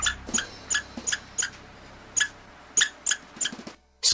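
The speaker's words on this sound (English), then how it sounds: "Squirrel." A squirrel chatters in quick, sharp, high chirps repeated at an uneven pace, close and clear against a quiet background.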